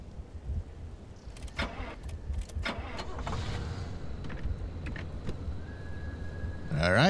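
Inside a car in the video game Pacific Drive, door and interior clunks give way to the engine starting up, with a rising electric whine near the end over a steady low rumble.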